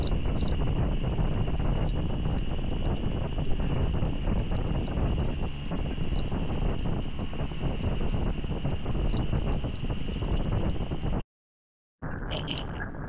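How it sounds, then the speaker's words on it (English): Strong wind buffets the microphone in a continuous rough roar, briefly cutting out near the end before resuming. "It's so windy."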